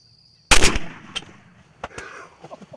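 A single loud, sharp gunshot cracks out during a turkey hunt, close by and after near silence, followed by a fading tail and a few faint clicks and rustles.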